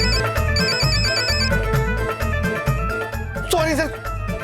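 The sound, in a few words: mobile phone ringing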